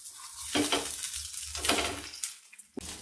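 Barley breakfast patty cooking in a covered pan over medium flame, giving a steady close sizzle with a few louder bursts of frying and scraping, no talking.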